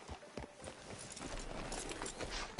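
Horse hooves clip-clop in Red Dead Redemption 2 as a rider moves through a town near the sheriff's office, a soft rhythmic plodding under a busy ambient game soundscape.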